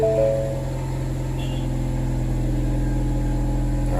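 A Ford Mustang S550 with a loud aftermarket exhaust idles in a garage, a steady, deep, rumbling drone that holds an even level throughout at close range, with no voices.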